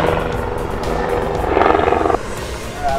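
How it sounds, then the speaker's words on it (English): A helicopter's rotor chop throbs nearby and grows louder midway, then eases off, with some faint background noise, at a baseball batting session outdoors. "Let that helicopter pass."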